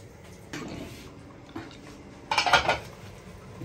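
A metal lid set onto a cooking pot of simmering food with pepper in a home kitchen, a few separate clanks and scrapes ending in a louder clattering rattle, close by and without speech.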